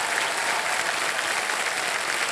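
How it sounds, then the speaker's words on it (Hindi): Studio audience at the KBC quiz show (Kaun Banega Crorepati) breaks into steady, dense applause after a contestant's win, a continuous loud wash of clapping with no speech over it. "तालियां बज जाए इनके लिए"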